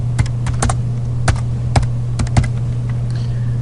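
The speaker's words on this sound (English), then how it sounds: "I'm going to type my name." Someone types a name on a computer keyboard: a steady run of crisp, close key clicks in uneven rhythm with a few sharper taps, over a low constant electrical hum.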